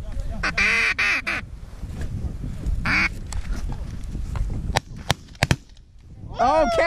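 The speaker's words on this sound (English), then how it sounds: "Oh, look at that duck coming down." Duck quacking in bursts during a goose hunt, several loud calls near the start and more at the end, with a few sharp pops and people talking in between.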